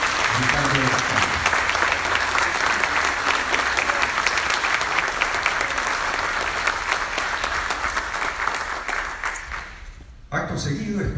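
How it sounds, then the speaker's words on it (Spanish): Sustained audience applause at an honorary doctorate ceremony at Universidad Ricardo Palma honoring Father Gustavo Gutiérrez; loud, dense clapping holds steady for about ten seconds, then cuts off abruptly. "vaya para el Reverendo Padre Gustavo Gutiérrez el primer aplauso de esta mediodía"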